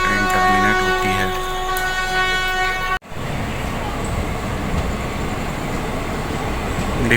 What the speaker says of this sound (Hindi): Departure from नादियाड junction.